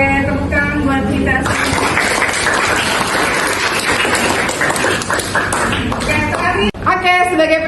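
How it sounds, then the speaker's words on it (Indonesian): Classroom full of high school students in a biology lesson applauding together, a dense sustained burst of clapping that fills the room for several seconds before breaking off, with voices around it. "tepuk tangan buat kita"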